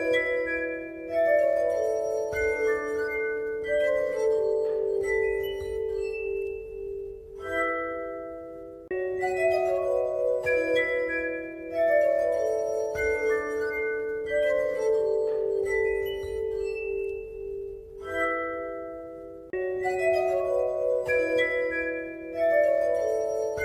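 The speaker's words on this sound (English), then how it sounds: "So is a wine glass a musical instrument? Well, you can play music and songs with it." Clear ringing tones played on a wine glass form a slow melody, each sustained note overlapping the next in repeating phrases, loud and close with no voices.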